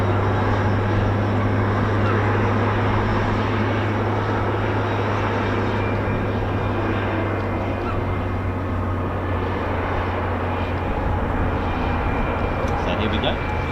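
An aircraft arrives at RAF Fairford during the Royal International Air Tattoo, its engines a loud, steady drone with a low hum running underneath and no pause or break.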